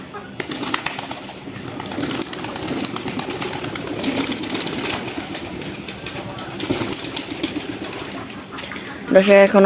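Pigeons coo softly and continuously at moderate distance in a hot loft, with occasional wing flaps and a louder burst near the end.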